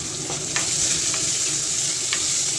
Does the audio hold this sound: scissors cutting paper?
no